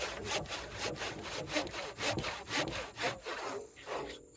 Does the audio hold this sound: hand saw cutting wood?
yes